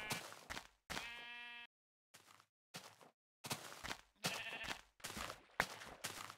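A wet sheep in the Minecraft video game gives one clear, wavering bleat near the start, among short bursts of other game sounds such as footsteps, with gaps of silence between them.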